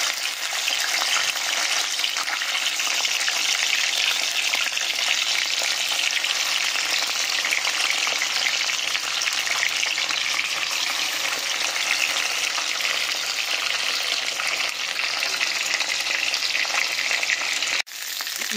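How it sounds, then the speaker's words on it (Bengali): Pieces of foli fish, rubbed with salt and turmeric, fry in hot oil with a loud, continuous, dense sizzle that holds steady for nearly twenty seconds. A brief dip comes near the end. "এই তেলেতে আমরা গরম তেলে দিয়ে দেবো মাছগুলো।"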